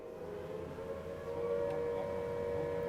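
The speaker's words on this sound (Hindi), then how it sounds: "सायरन बज रहा है" A steady wailing air raid siren drones on continuously during a blackout, fairly loud and unbroken, with a faint distant background hum beneath it.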